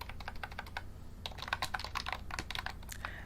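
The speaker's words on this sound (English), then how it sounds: "Oh, my keyboard. You like it?" Rapid, close typing on a green beehive-style computer keyboard, with crisp uneven key clicks in bursts and brief pauses and no speech over it.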